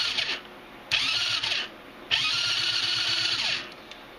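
Starter gear on a Chinese quad engine turning the motor over, two close, loud whirring bursts of cranking with a short pause between them, no talking.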